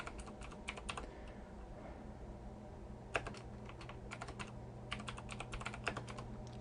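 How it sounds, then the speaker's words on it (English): Steady typing on a computer keyboard while entering text into an HTML document, with bursts of quick key clicks separated by brief pauses, close and fairly quiet over a low background hum. "I'll just type title in here."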